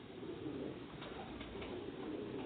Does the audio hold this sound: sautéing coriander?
no